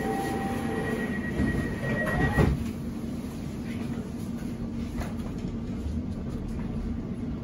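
A Gospel Oak-bound London Overground train between Woodgrange Park and Wanstead Park rumbles steadily from inside the carriage. A brief squeal and a sharp clunk come early, and the rest is a constant low roar.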